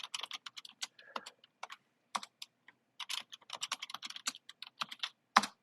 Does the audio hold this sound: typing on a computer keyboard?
yes